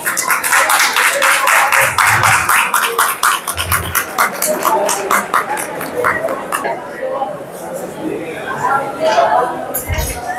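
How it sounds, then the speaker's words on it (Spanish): Rapid, dense clapping from a festival audience at a talk on coffee, fermented drinks and chocolate bursts loudly at first, then thins into scattered claps amid lively chatter and a few low thumps. "un fuerte aplauso para ella"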